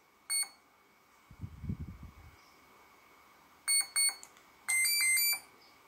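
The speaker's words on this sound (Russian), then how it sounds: "И мы ждем, когда он два раза пикнет." An ESC speed controller on a ZOHD Drift model plane emits short electronic beep tones during menu setup: a single beep, then a pair, then a longer run of rapid beeps, with a brief low handling thump between and near-silence otherwise.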